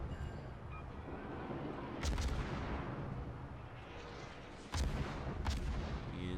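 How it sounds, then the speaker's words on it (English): Naval gun shells fire in the World of Warships video game, two loud booming salvos a few seconds apart, each a cluster of sharp blasts over a low rumbling battle ambience. "I'm just trying to manage the arc of my shells as they go towards him."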